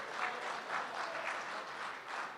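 Applause from the audience at a Republic Day kavi sammelan and mushaira poetry recital, a steady, fairly soft and distant patter of many hands clapping without a break and no talk over it.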